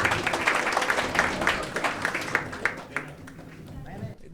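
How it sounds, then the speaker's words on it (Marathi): A live audience at a Mumbai comedy show claps loudly and briskly for a performer, the sharp crowded claps thinning out and fading toward the end as voices come in underneath. "एकदा जोरदार टाळ्या भाई भाईसाठी."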